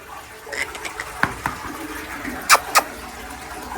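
Water runs into a tub as a steady soft rushing stream, with a few sharp splashy clicks on top and faint background activity.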